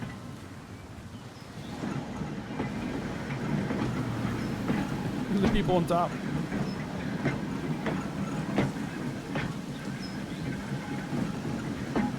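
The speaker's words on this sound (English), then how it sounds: "Those are still steam trams." Steam trams roll along rails in the video game Transport Fever 2, a steady rumbling clatter with periodic clicks and a brief squeal midway, while a voice speaks briefly over it.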